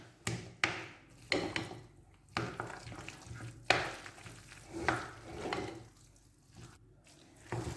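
Creamy rice being stirred in a pan for a baked rice dish: a series of spoon scrapes and wet stirring strokes at an irregular rhythm over a soft sizzle, close and moderately loud, with no talking.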